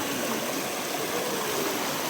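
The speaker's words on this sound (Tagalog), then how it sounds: "Itong ilog na to ay pupunta doon sa pinaliguan namin." River water flowing steadily, a broad even rush of current running alone with no voices, close and moderately loud throughout.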